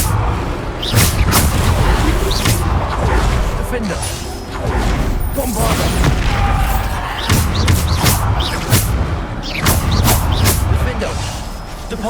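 Bombarda spell blasts from Hogwarts Legacy, heavy booming explosions and thuds erupting repeatedly in dense combat over a continuous loud rumble, with a voice calling out spells.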